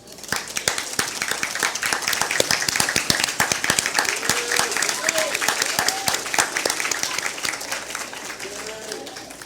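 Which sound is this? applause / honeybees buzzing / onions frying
applause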